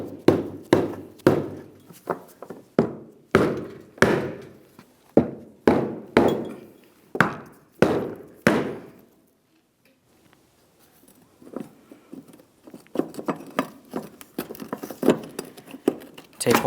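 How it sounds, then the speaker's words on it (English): Brass punch struck against a steel fuel tank locking ring on a 2005-2010 Dodge Dakota, a run of about a dozen sharp, evenly spaced metallic bonks, then a pause and a quicker, lighter string of taps. "we'll come along one of these edges here with our brass punch, give it a couple bonks to start breaking it free"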